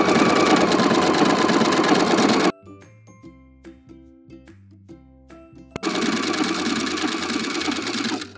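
A sewing machine runs an overcast stitch along a fabric edge, loud and continuous, then briefly slows to a softer, uneven rhythmic chugging before the steady running resumes.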